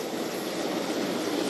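A military helicopter flies over Ghana's 67th Independence Parade while extracting special forces assault teams. Its engine and rotor make a loud, steady, broadband roar that runs unbroken throughout, with no voices.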